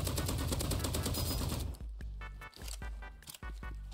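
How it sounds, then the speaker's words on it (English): Gunfire in the video game Roblox Rivals, a loud dense burst of rapid shots followed by several separate sharp single shots and clicks. "He's shooting through my katana, dude."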